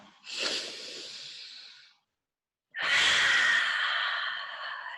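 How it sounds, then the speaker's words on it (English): A deep clearing breath at the close of an online yoga class: one long, loud, airy exhale, a short pause, then another full breath, close and alone. "just take a nice clearing breath, inhale"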